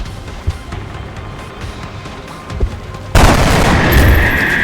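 Carbine gunfire in XCOM Enemy Within, a tactical strategy game: a few sharp shots and light pops, then a sudden loud burst of rapid fire and explosive crackle that continues to the end.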